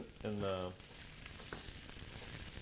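Venison and sweet potato pancakes sizzle in a pan, a continuous close crackling fry that is crisping up. A short voice comes in near the start.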